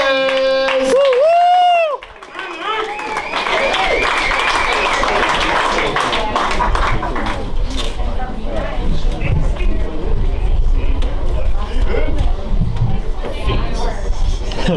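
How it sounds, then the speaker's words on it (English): A comedy club audience breaks into loud, sustained applause to welcome the comedian Phoenix West, following a brief tonal sting at the start. Dense clapping carries through to the end, with scattered crowd noise and no clear speech. "Round of applause right now for Phoenix West!"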